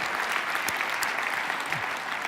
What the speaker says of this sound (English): Let's give Billy a round of applause for that change.